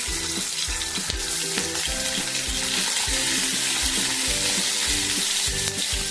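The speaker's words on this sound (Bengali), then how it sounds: "কড়াইতে দিয়েছি সর্ষের তেল, গরম হয়ে গেছে, এখন মাছটা দিয়ে দেবো।" Turmeric-and-salt-coated prawns frying in hot mustard oil in a kadai, giving a loud, constant sizzle with rhythmic stirring scrapes throughout and no speech.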